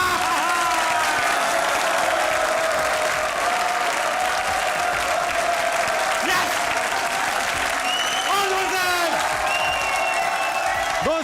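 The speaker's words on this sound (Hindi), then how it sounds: "तालियां!" A studio audience at a comedy talk show claps continuously and loudly, a dense even wall of applause throughout, with a few cheers and whistles rising above it.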